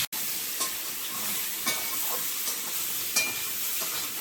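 Potato and brinjal pieces seasoned with salt and turmeric fry in a pan, giving a loud, continuous close-up sizzle broken by occasional soft scrapes of stirring.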